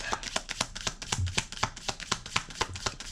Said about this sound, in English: just give me one moment while I shuffle